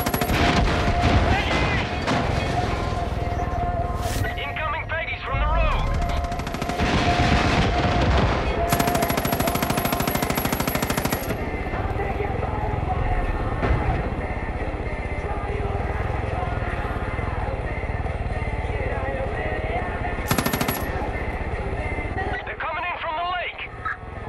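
Far Cry 5 combat brings dense machine-gun bursts and heavy mortar-style blasts, loud and sustained across the stretch, with a voice talking over parts of the firefight.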